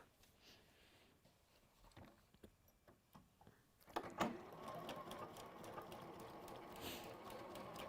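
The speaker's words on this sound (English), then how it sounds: "Let's go back to the sewing machine." Faint mechanical ticking gives way to a sewing machine running steadily, its fast whirring stitch rhythm close and continuous.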